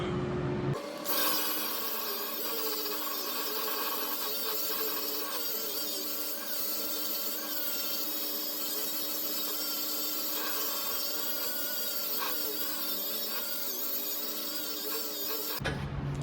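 JB Weld is cleaned off a metal pipe by hand, giving a continuous, even rubbing and rasping scrape that carries on steadily without pauses, over a constant background hum.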